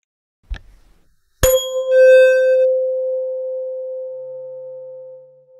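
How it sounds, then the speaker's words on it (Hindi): A soft tap, then a tuning fork struck with a rubber hammer rings out into a pure, steady tone that slowly fades, alone and close. "अब हम ट्यूनिंग फोक को रबड़ हैमर पर मारते हैं"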